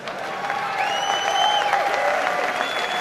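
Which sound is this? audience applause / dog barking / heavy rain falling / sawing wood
audience applause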